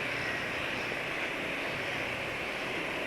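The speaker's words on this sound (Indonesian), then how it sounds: "Suara mesin juga nggak bisa dibilang halus-halus banget dibanding ketika pakai sel Limura N4X" A car engine runs on a motor oil blend, giving a steady, even drone with a broad hiss that holds unchanged for the whole stretch, without any voices.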